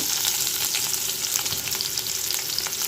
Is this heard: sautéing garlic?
yes